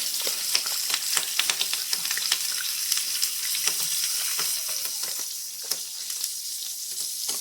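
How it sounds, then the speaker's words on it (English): Scrambled eggs being folded into mac and cheese in a hot pan, giving a steady close sizzle with frequent small scraping and stirring ticks throughout, no voices. "Go ahead and add your eggs you scrambled. Go ahead and fold all that together, mix it all up."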